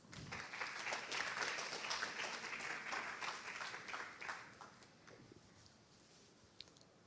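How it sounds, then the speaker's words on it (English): An audience at a storytelling stage event claps to welcome a speaker, a dense burst of applause that is strongest early, then thins and fades to scattered claps. "A big round of applause."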